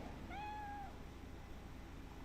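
A cat in a video game gives a single clear, drawn-out meow while being petted, close and alone over a steady low background hum.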